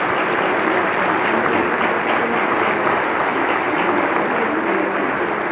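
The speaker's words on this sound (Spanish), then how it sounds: "por favor, un fortísimo aplauso" Strong, steady applause from a book-event audience at Torrejón's 2023 Letters Month, loud and even throughout with a constant dense texture of many hands clapping.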